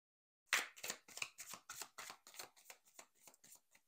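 Tarot cards being shuffled, a quick run of about a dozen crisp riffling flicks, close and fairly quiet, with no voices.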